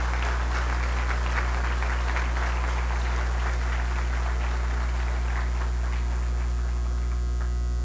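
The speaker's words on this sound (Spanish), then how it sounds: "con el aplauso de todos ustedes." Audience applause at a 65th-anniversary ceremony of the Mexican Chamber of the Construction Industry, a steady dense clapping heard throughout over a loud constant mains hum.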